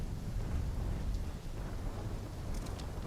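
A thunderstorm in Call of Duty: Black Ops 3, a steady dense roar of heavy rain and rumbling thunder filling the whole stretch, loud and continuous with no voices.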